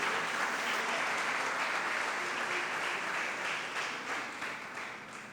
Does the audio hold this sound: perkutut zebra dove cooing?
no